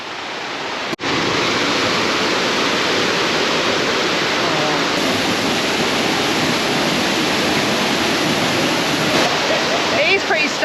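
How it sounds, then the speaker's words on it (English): A small waterfall roaring close by as a continuous broadband rush of falling water, steady and loud after a brief cut at the start. "Can you hear that water?"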